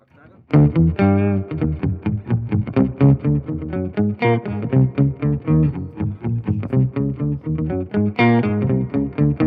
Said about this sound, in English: Then for the added effects we have the octave pedal.